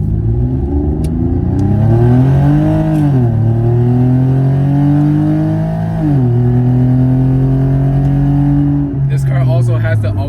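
A 2013 Lexus IS350 AWD engine rising and falling in pitch as it revs through several climbs, loud and close, with a voice talking over it.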